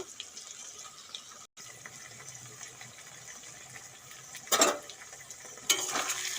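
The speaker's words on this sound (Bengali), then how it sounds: "এখন দিয়ে দেবো ভেজে রাখা বেগুন বেগুন দেওয়ার পরে কিছুক্ষণ কষিয়ে নেব" Fried eggplant pieces added to potatoes in a pan and stirred, giving a low steady sizzle with scraping, then two louder bursts of stirring and hiss near the end.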